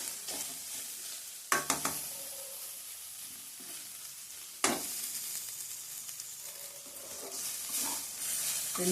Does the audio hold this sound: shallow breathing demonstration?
no